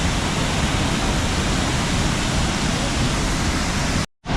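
Roaring water pours down at the Itapecuru twin falls in Chapada das Mesas, a loud, dense and unbroken rush close by that cuts off abruptly near the end.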